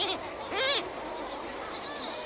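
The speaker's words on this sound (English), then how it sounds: "harvesting on Snares Island of sooty shearwaters or mutton birds" Sooty shearwaters, also called mutton birds, on Snares Island give harmonic, honking calls: one strong rising-and-falling cry near the middle and a fainter one toward the end, over a steady background hiss with no talk.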